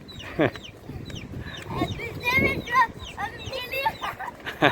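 Chicks peep in high, quick chirps, scattered and close, with voices talking alongside.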